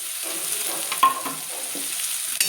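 White mustard paste sizzles in a hot pan for a drumstick-flower malai curry, a steady high hiss with a few soft scraping stirs and one brief clink, close and alone with no talking.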